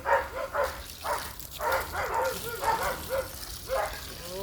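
Neighbouring dogs bark repeatedly in a steady, rapid series of yips and barks, moderately loud and somewhat distant, continuing throughout.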